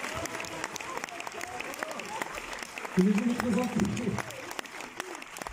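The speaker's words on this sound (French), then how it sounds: "Le tonton, on l'applaudit bien fort." At a film premiere, a theatre audience applauds for a couple of seconds midway through, under someone speaking French into a microphone before and during the clapping.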